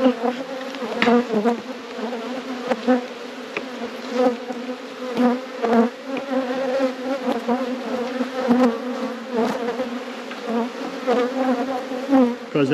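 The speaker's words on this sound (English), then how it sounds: "And the reason these bees are angry" A loud, dense swarm of angry honey bees from a drone-laying colony buzzing close by, a continuous droning hum with individual bees zipping past, no voices.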